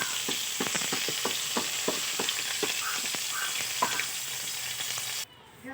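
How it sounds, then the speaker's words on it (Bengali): Bhola fish frying in hot oil gives a steady, close hiss and sizzle, broken by scattered sharp pops and clicks of stirring, before cutting off abruptly near the end. "মাছ ভাজা হয়ে গেছে"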